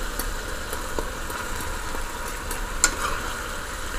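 Eggplant and chopped tomato frying in a pan for barbecue beef with eggplant, a steady, soft sizzle running throughout with faint stirring scrapes and one brief clink near the end.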